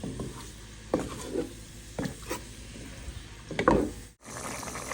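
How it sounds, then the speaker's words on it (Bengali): Fish being sautéed in a pan with a wooden spoon, a faint sizzle under several scraping, stirring strokes and knocks against the pan, ending in a brief dropout. "তো মাছটা কষিয়ে নিচ্ছি, দেখতে পারছেন।"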